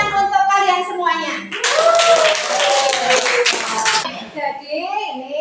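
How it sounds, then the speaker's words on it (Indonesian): A classroom of students claps after a presentation, a dense burst of hand claps for about two seconds that rises over and then gives way to a teacher's voice. "Tepuk tangan untuk kalian semuanya."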